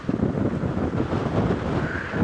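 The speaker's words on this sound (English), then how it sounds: "it's so windy you can hear the wind howling" Strong wind buffets across open bush during an evening safari drive, a constant low rushing roar with gusty swells, loud and close, with no voices over it.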